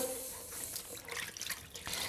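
Tap water runs steadily into a sink for a couple of seconds, a bright splashing hiss with small drips and gurgles, as a little water is drawn to wet a sponge. No voices are heard.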